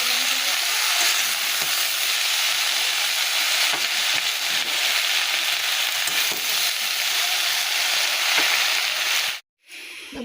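Spinach cooking in a hot pan with ground onion and garlic paste, a loud, dense, continuous sizzle and hiss close up that cuts out abruptly near the end, with no voices.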